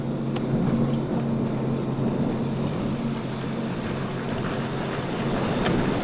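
2008 Sea-Doo 155 Speedster jet boat with a 215 hp engine idling in neutral near a dock, a steady low rumble that holds an even level throughout, with no talk over it.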